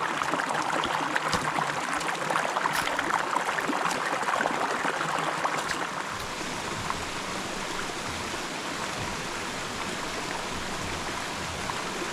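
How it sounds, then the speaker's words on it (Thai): Rushing water from a waterfall over 80 metres high lies ahead in a forest, heard as a continuous broadband roar and splash, louder and busier in the first half with scattered sharper taps, then steadier. "เราได้ยินเสียงน้ำตกนะฮะก็อยู่ตรง ข้างหน้านู้นเลยนะครับ"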